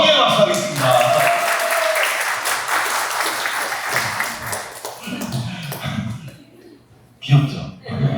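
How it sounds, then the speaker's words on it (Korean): Applause from a church congregation after a children's counting activity during a worship service, a broad clapping wash that thins out, with voices and light laughter mixed in near the end. "우리 경례 박수 하겠습니다."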